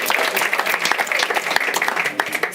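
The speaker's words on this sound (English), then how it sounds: "Let's get a big round of applause." Audience applause at a digital school showcase, a lively crowd clapping in a continuous rattle with distinct sharp claps popping through, moderately loud and sustained throughout.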